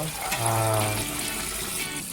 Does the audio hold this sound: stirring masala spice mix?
no